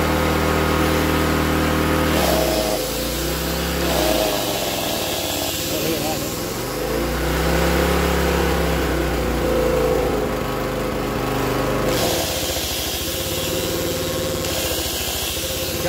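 A rusty Honda generator engine runs loudly and steadily close by, its pitch dipping and recovering several times as the governor hunts unevenly.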